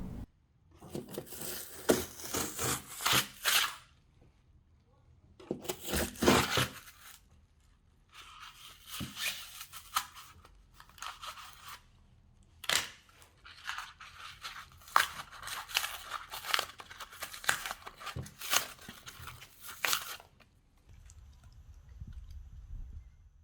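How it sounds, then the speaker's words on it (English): Excess cured expanding foam is cut away with a hand saw or knife, heard as close bursts of rasping, crunchy sawing strokes separated by short pauses, with no talk. "Now to cut off the excess, you can use a Stanley knife, a manual saw, or if you do have one, an electric saw"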